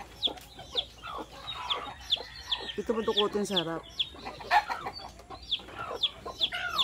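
A native hen and her chicks cluck and peep close by, with soft repeated clucks, high chick chirps and a brief squawking burst, while a person talks over them.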